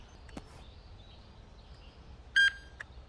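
Checkout scanner beep in Pharmacy Simulator, one short, bright electronic bleep standing out against a quiet background, with a few faint clicks around it.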